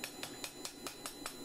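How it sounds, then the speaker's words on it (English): Hammer tapping out marks on a forged shepherd's crook finial: eight light, evenly spaced metallic taps at a steady quick rhythm, close and fairly quiet over a faint background hiss. "So I've got a few hammer marks there. I'm just going to knock them out"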